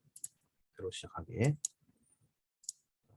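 A computer mouse gives a few sharp, quiet clicks, one early and another near the end, separated by a short burst of nearby speech.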